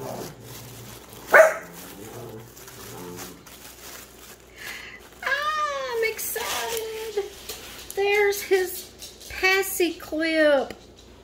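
A dog barks and yelps at something outside in a run of sharp bursts, some close together, while people talk and items rustle indoors.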